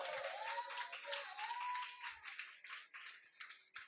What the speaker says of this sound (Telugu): చప్పట్లు కొట్టి ప్రభు నామాన్ని కనపడదాం.